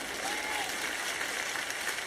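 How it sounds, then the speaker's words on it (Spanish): Light applause from a church audience at a sermon, a steady patter of clapping throughout at moderate level, fairly close and without talk. "Una persona por acá aplaudió un poquito"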